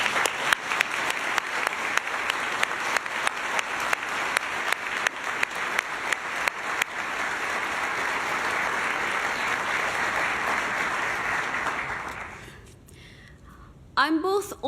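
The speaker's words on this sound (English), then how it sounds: "Let's give them a big round of applause." A large audience claps for honourees at an anti-racism award ceremony, a dense, loud wall of applause that holds steady for about twelve seconds, then fades sharply before a brief burst of sound returns at the end.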